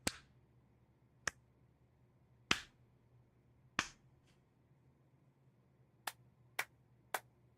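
Slow clapping in the video game Persona 4: Dancing All Night: seven sharp, isolated claps spaced about a second or more apart, crisp and close against a quiet background hum.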